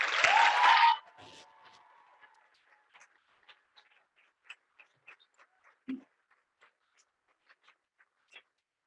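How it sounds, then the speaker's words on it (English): At a student engagement and leadership awards ceremony, a short loud burst of audience applause dies away after a second into a few scattered, faint claps spaced irregularly across the remainder. "So could I get one more round of applause?"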